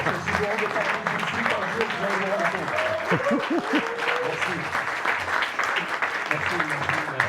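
An audience at a tech meetup claps steadily throughout, with voices talking over the applause.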